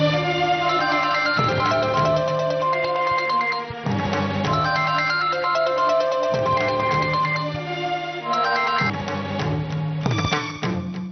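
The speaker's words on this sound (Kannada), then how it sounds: "ನಿಮ್ಮ ಫೋನ್ ರಿಂಗ್ ಆಗ್ತಿದೆ ನೋಡಿ." A phone ringtone plays loudly and continuously, a repeating melodic tune looping several times with no talk over it, set in a Kannada TV serial scene.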